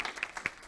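An audience at a conference on women in the education system applauds, steady clapping with a few sharper claps standing out.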